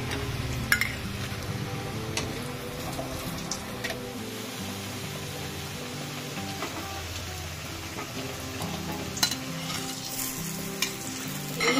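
Paneer cutlets fry in hot oil with a steady close sizzle, broken now and then by sharp clinks and stirring scrapes as pieces are turned, with no talk.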